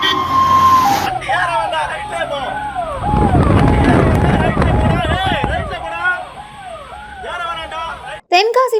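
An ambulance's wailing siren rises and falls repeatedly over a busy street scene, loud and near, with crowd noise and voices underneath.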